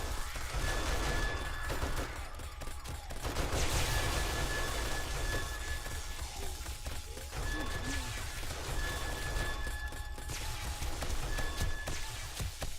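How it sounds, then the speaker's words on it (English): An automated turret in 7 Days to Die fires at zombies in a steady, dense stream of rapid shots that continues throughout, loud and close, over a noisy background. "My turret doing its job"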